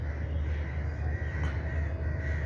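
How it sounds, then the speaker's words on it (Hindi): Crows caw in a park in Lahore at evening, with a few harsh calls rising over a dense, steady background of bird chatter and distant ambience. "ये देखे कौवे भी घरों को अब जाने लगे।"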